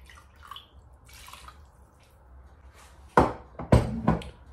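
Water poured into quince tagine in a Thermomix bowl with saffron, arriving as a few sharp splashing bursts near the end after a quiet, faintly humming stretch.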